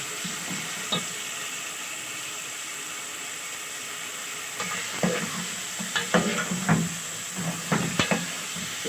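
Chicken frying in a pan for shahi qorma, a constant hissing sizzle, with a burst of spoon scrapes and knocks against the pan in the second half, near and without speech.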